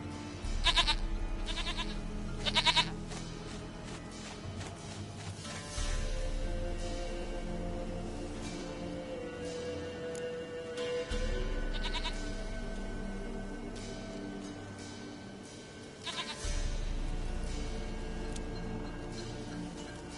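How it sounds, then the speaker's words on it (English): A goat in The Witcher 3 bleats in several short, wavering calls set against a low game ambience and scattered ticks, moderately close. "Goat of mine, dearest,"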